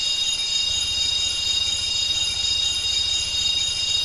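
A PlayStation console error sound gives a steady, harsh, high-pitched electronic tone over a low rapid pulsing buzz, constant and fairly loud throughout with no pauses.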